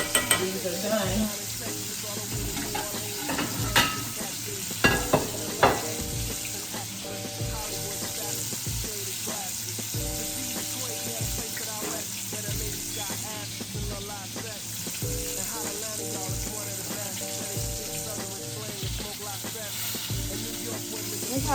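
Chicken pieces frying in hot oil produce a dense, continuous crackling sizzle, with occasional clinks and turning noises from a utensil, close and prominent throughout.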